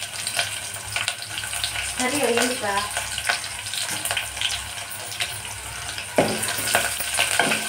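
Onion, ginger and green chillies frying in a tempering of cumin in hot oil, a continuous close sizzle with stirring scrapes, while someone speaks briefly over it.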